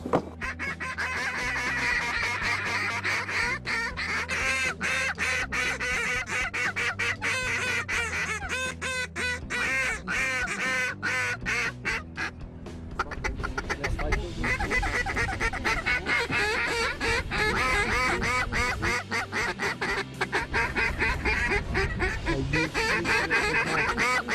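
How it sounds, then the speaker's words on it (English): A large flock of ducks and geese calls outdoors, dense overlapping quacks and honks that go on throughout, loud and near, with a faint voice now and then underneath. "Ducks here, boys, a lot of ducks."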